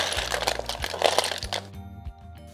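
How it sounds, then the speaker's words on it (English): Snails drop into a pan of herbs sautéing in olive oil over medium-low heat, bringing a burst of crackling sizzle and clattering shells up close, which then settles to a quieter fry. "then adds the snails"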